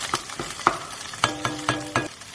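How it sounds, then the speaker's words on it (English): Thai green curry paste frying and sizzling in hot bubbling oil in a pan, with a string of separate stirring scrapes and spits rising over a low, steady sizzle, up close and with no talk. "you can see the oil starting to bubble up on the sides there"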